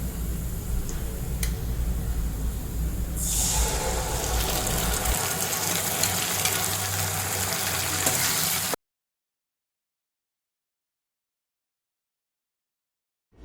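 Onions and spice masala frying together in a pan for a rohu fish curry, a steady close sizzle that runs for several seconds before cutting to silence.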